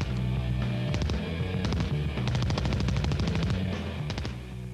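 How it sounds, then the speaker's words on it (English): A Thompson 1928 submachine gun with a 50-round drum firing rapid bursts on a range, loud sharp reports in quick rattling strings with brief pauses between bursts. ". I'm shooting the Thompson submachine gun, or Tommy gun"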